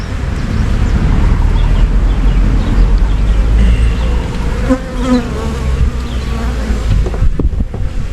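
Bees swarm around an open beehive at an apiary, a dense, loud, continuous buzzing close by, with occasional louder passes of individual bees near the ear.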